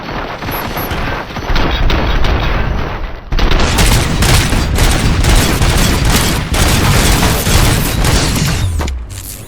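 Dense, continuous gunfire and heavy booms from a RoboCop: Rogue City firefight, loud and close, with a rapid automatic barrage that swells after a brief lull and carries on without pause.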